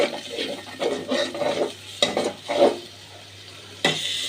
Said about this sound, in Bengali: এভাবে কষাতে কষাতে যখন মশলা থেকে তেল ছড়াবে, তেলটা বের হয়ে আসবে